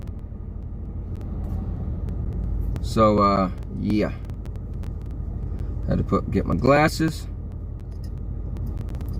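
A low, steady rumble fills a car interior while driving, continuous engine and road hum beneath brief bursts of nearby talk.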